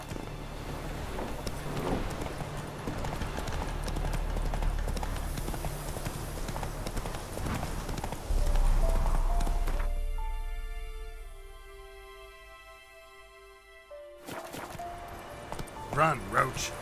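Roach the horse gallops in Witcher 3, a steady rapid clip-clop of hooves over an outdoor ambience; the hoofbeats drop out midway under a musical swell, then return briefly at the end.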